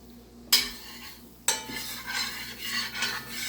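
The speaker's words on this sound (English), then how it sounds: "spatula and I start working in the sausage grease" A spatula scrapes and stirs flour into sausage grease in a pan, two sharp clanks followed by steady close scraping over a low sizzle, with no talking.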